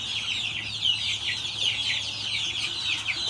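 Two-week-old pastured chicks cheep continuously in a dense, overlapping chorus of high peeping calls, close and steady throughout with no talking.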